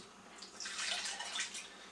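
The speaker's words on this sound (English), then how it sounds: "So I'm going to add in a bit more water" Water poured into blackberry pulp in a kitchen for making jelly, a soft splashing trickle that swells midway and fades, fairly quiet.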